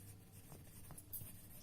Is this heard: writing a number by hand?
yes